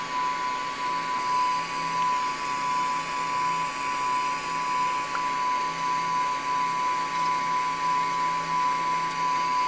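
A lampwork torch flame heats glass with a steady, hissing roar and a faint high whine running underneath, continuous and fairly close, with no talk.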